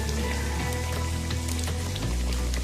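Gram flour and potato pancakes fry in oil over a medium flame, giving a steady, dense crackling sizzle that stays close and even throughout, with small pops scattered across the hiss.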